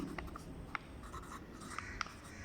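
Faint writing on a board during an English grammar lesson, soft scratchy strokes with a few sharper taps, quiet and close with no talk.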